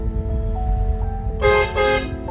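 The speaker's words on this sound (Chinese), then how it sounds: "小车冲了前去，喇叭声音就响。" A car horn honks twice in quick succession on a highway where yaks cross the road, loud over the steady rumble of a truck's engine.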